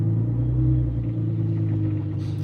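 Street traffic on a main road heard from inside a car stuck in traffic, a steady low engine rumble and road hum that stays continuous and fairly loud throughout.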